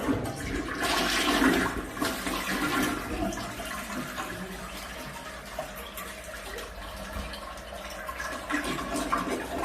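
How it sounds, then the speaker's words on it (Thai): A toilet being flushed in a bathroom after scrubbing with a toilet brush, a close rushing gush of water that swirls and slowly settles into a steady refilling trickle, with no talking. "กดชักโครกค่ะสักครั้งหนึ่ง"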